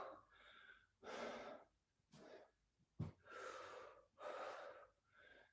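Heavy breathing during a yogalates workout: loud, forceful inhales and exhales in an uneven rhythm of about five breaths, close up with no talking.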